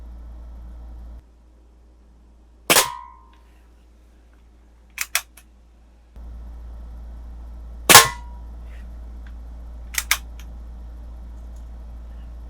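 A Daisy 853 air rifle fires .177 pellets at cans: two sharp, loud cracks about five seconds apart, each followed a few seconds later by a pair of small, quick metallic ticks, over a quiet background hum.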